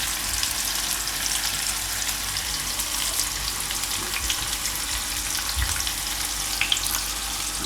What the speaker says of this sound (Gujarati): મેગી બુડે એટલું આપણે એમાં પાણી નાખવાનું છે.